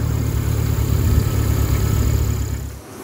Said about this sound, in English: Those old Land Rover engines never cease to amaze me.